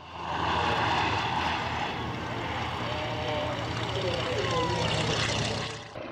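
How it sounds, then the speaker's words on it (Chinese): An Antonov An-2 biplane roars low past an air show crowd, its radial engine and propeller droning loud and steady for several seconds before fading slightly. "一架飞机突然向地面高速俯冲，表演了惊险的贴地双击对飞"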